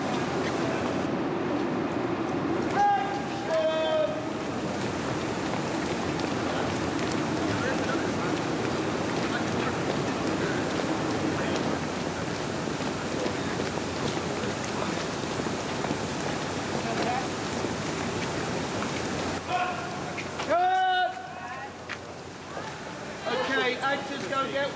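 Light rain mixed with snow falls on an outdoor film set, a steady soft patter and hiss that runs throughout, with people talking under it in places and brief sharper knocks and squeaks near the end.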